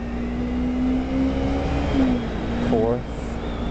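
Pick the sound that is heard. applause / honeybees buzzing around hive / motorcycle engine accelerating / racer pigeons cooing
motorcycle engine accelerating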